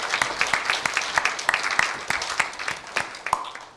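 A church congregation at a Korean Methodist Sunday service claps together in a steady rhythm, crisp, evenly spaced hand claps that carry through the hall for several seconds.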